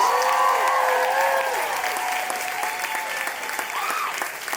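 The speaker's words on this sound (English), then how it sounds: "Can we please just get a huge round of applause for these incredibly talented designers?" An audience at the LACHSA fashion show applauds the student designers of a Fashion Design 1 class, with loud continuous clapping and a few high voices calling out over it, easing slightly toward the end.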